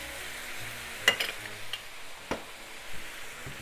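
A chicken and potato stir fry with butter and soy sauce gets stirred in the pan, with a soft background sizzle broken by several clinks and scrapes of a utensil against metal.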